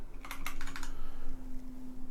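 Typing on a Massdrop Ctrl mechanical keyboard with Halo True switches: a quick burst of crisp clacky keystrokes close up, then quiet with a faint steady hum.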